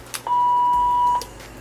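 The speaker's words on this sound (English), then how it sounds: "you should hear this long beep" A Saberforms Anakin V2 neopixel lightsaber gives a single long, steady electronic beep lasting about a second as it enters volume mode, clear and close with a quiet background.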